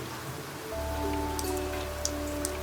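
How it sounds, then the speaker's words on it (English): Rain falls steadily in the Faerie Flowers video game as a soft, even patter, joined partway through by a sustained low hum and a few faint tones. "It's also raining, which is good."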